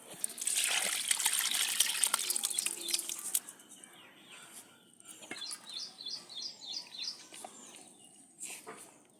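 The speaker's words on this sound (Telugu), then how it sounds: "చల్లారిన నూనెను కూడా ఇప్పుడు కలుపుకోవాలండి" Cooled oil pours into a batch of homemade tomato pickle, a steady liquid gushing and trickling sound for the first few seconds, then fading to quieter stirring noises with faint bird calls in the background.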